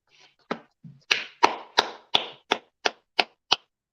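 A handful of people clapping at a gathering, about ten sharp claps spaced at a steady rhythm, fairly faint and alone.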